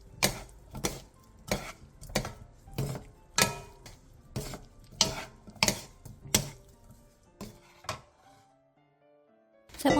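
Seasoned holiday namul tossed in a bowl with a spoon of perilla oil and whole sesame seeds, giving a run of sharp, close clicks and clacks in an uneven rhythm that thin out near the end.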